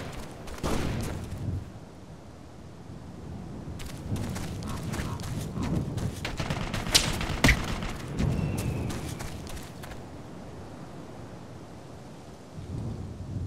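Gunfire rattles through a combat scene in Operation Flashpoint: Dragon Rising, sharp bursts and volleys popping at varying distances over a steady rumbling background, some shots loud and close, others distant.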